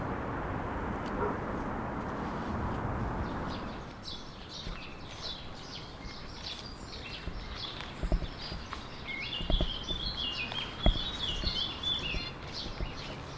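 Zebra finches in an aviary give faint, high chirps in the second half, mixed with scattered clicks and light tapping after a stretch of dull background noise.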